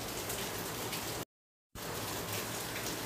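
Steady rain that has fallen all night pours outside a home kitchen window, heard as an even, dense hiss that cuts out completely for a moment midway before resuming.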